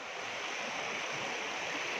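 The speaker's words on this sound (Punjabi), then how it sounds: "ਦੇਖ ਸਕਦੇ ਹੋ ਕਿ ਕਿੰਨੀ ਰਫਤਾਰ ਦੇ ਨਾਲ ਜਿਹੜਾ ਹੈ ਪਾਣੀ ਇਸ ਸਮੇਂ ਸਤਲੁਜ ਦਰਿਆ ਦੇ ਵਿੱਚ ਚੱਲ ਰਿਹਾ ਹੈ" Floodwater of the Sutlej river rushes past in a steady broadband roar, constant and fairly faint with no voices.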